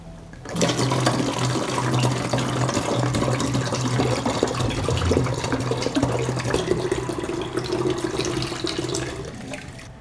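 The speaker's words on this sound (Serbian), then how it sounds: "Mleko ću razrediti sa 2 litre vode." Water pours into a 2-litre plastic bottle to dilute milk, making a steady gurgling rush with a low resonant tone that holds for about nine seconds and then stops.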